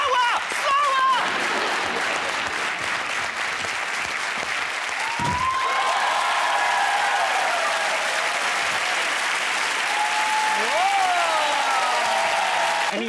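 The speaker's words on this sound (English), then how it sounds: "So can everybody just do like a generic clap" A studio audience claps together on a TV game show, a dense, steady applause that fills the whole stretch with scattered voices and whoops mixed in.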